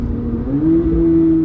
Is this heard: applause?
no